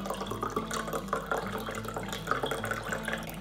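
Vinegar poured into a container already half filled with water gives a steady, close splashing pour that runs the full length without any talking.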